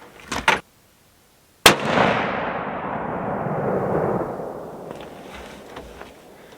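A single sharp, loud crack from a .243 rifle fired while sighting in its scope, followed by a long rolling echo that fades slowly over several seconds outdoors.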